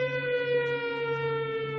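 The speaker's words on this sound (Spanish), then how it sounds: "Bajo el inquietante aullido de las sirenas que anunciaban incursiones aéreas, Puyi y su familia escaparon" An air raid warning siren sounds in wartime China. Its loud, sustained wailing tone holds nearly level with a slight downward slide, and no other sounds cover it.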